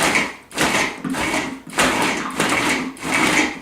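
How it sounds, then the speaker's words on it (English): A blender pulses frozen cherries and bananas in several short bursts, grinding and rattling loudly with brief pauses between them. "I'm just going to pulse it a little bit"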